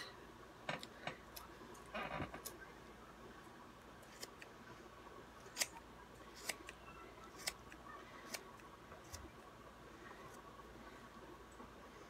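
Scissors snip through a cheap synthetic wig, making sharp, faint, irregular clicks spaced a second or so apart over a quiet background, with one brief rustle near the start.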